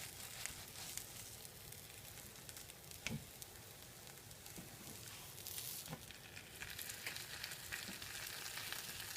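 A flipped omelette fries in a pan with a faint, even sizzle and a few soft ticks and pops throughout, steady and uninterrupted by voices.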